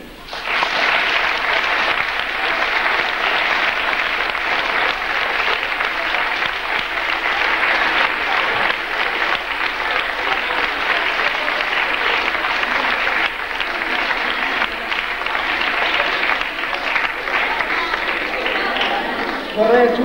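Sustained, warm applause from a school concert audience honouring the music teachers, a dense and even roar of clapping that carries on for about twenty seconds.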